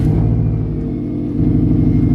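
A Subaru WRX STI with an upgraded fuel system and Invidia exhaust rumbles loudly and steadily after starting, its low engine tone holding close and continuous with no talk over it.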